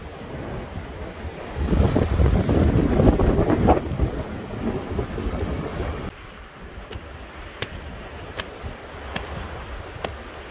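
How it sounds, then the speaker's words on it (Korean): Strong coastal surf with high waves on the Byeonsan Peninsula near Gyeokpo, crashing loudly and continuously with heavy wind buffeting the microphone, then easing to a steadier wash with occasional sharp clicks. "오늘 파도가 높아서 거기까지 올라왔나 우리?"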